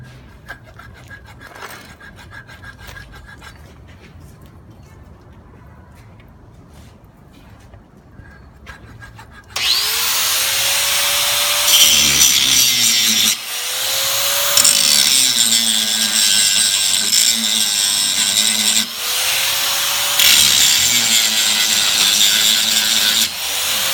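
A handheld power grinder bites into metal, starting suddenly after a quiet stretch and running loud and harsh, its pitch dipping and recovering several times as the tool presses and lifts from the workpiece.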